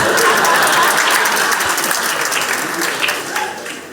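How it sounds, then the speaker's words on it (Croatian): Audience applause at a live stand-up comedy show, a dense wash of many hands clapping steadily for several seconds, close and loud, tapering slightly toward the end with some crowd murmur mixed in. "Aj, aplauz"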